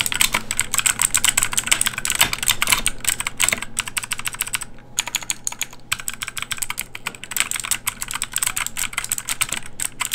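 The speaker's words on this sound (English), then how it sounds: "This keyboard also has Kiwa Blue switches, which are very similar to the Cherry MX Blues. They're very clicky and very responsive." Typing on a Royal Kludge RK61 60% mechanical keyboard with clicky Kiwa Blue switches, a fast, continuous stream of sharp, close clicks and clacks with only a short pause partway through and no voice.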